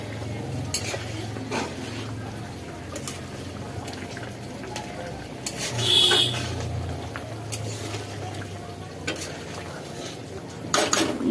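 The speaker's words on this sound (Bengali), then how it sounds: "এদিকে মাংসটা ফুটছে" Meat boils in a covered pot while pulao cooks nearby, a steady low bubbling and simmering hiss with occasional utensil clinks and a brief louder stir midway, and a voice speaking over it.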